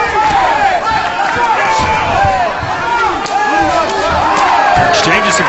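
A kickboxing crowd in Paris, France roars and cheers steadily through an exchange of kicks, loud and continuous with shouts rising over the noise.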